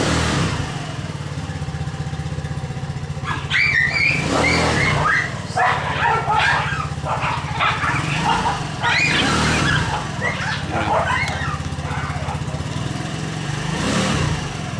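An RFI 175 scooter with a newly upgraded CVT and GY6 grooved bell on a test drive, its engine droning and revving steadily under passing traffic and wind, with a dog barking nearby.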